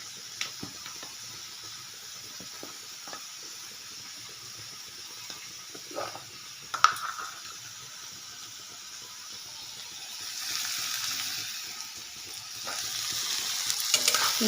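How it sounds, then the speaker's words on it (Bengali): Onions seasoned with salt and turmeric frying in a pan, a soft sizzle with occasional scrapes and clinks of stirring, the hiss swelling louder toward the end. "নেড়ে নিচ্ছি এবার।"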